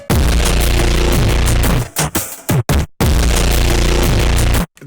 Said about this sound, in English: I love the sound of the distortion that this unit makes